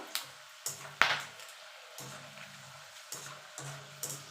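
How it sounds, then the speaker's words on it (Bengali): Peanuts and dried red chilies frying in oil give a quiet sizzle, with a few sharp spoon scrapes and stirring clatters at intervals, close and fairly faint. "বাদামের সঙ্গে চারটে শুকনো লঙ্কা ভেজে নেব"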